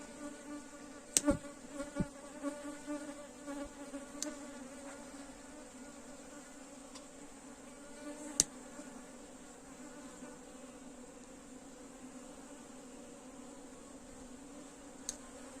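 Honeybees buzz around an opened hive in a steady, low hum, punctuated by a few sharp clicks and knocks, with no voices.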